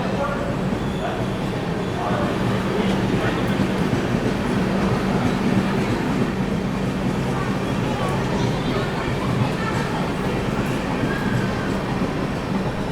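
The 12615 Grand Trunk Express gathers speed out of the platform, a continuous loud rumble with rhythmic clickety-clack of wheels on rail joints, heard from inside a coach with faint voices underneath.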